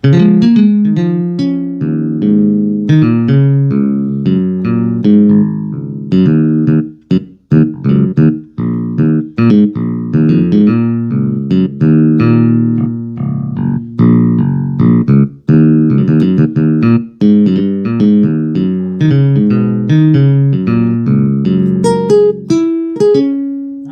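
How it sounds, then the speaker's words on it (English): A Casio CT-S1000V keyboard's finger bass voice plays a busy, plucky line of quick, punchy notes, loud and close, with no talking. "Next one is the finger bass 1."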